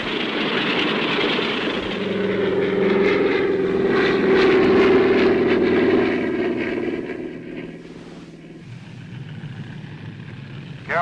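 Propeller airplane taking off, a loud steady droning engine with a buzzing tone that builds and holds for several seconds, then fades as the plane pulls away, with no talk over it.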